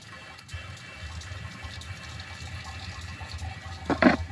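Differential fluid pours into the rear differential of a Mercedes W204, a soft continuous liquid trickle and gurgle that grows louder and splashier at the end.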